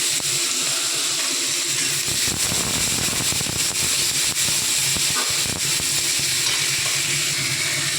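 Onion frying in hot oil with garlic, dried red chilli and black cumin, a steady loud sizzle and hiss that carries on without a break and with no talking.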